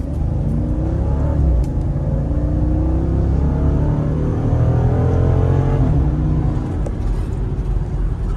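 A 2012 Jeep Grand Cherokee SRT8 accelerating from 0 to 60 mph, heard from inside as a loud, steady engine roar that climbs in pitch through the gears, with a brief shift dip partway.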